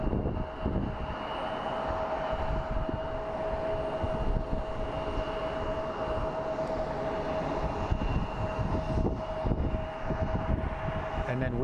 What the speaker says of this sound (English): There's our 737 MAX 9 United flight that's headed to LAX.